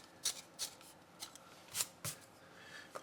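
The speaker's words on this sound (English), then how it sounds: "Sharpen the Cretacolor in the same sharpener that I did the Mitsubishi." Cretacolor graphite pencil turned in a Palomino Blackwing hand sharpener, a handful of soft, crisp shaving scrapes in short irregular bursts, close and quiet with no talking.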